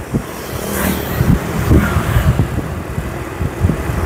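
A Uwinfly M60 electric motorbike ridden at full throttle on a road, with a loud whine and rush of wind and road noise that swells and dips over a few seconds, close to the microphone and with no voices.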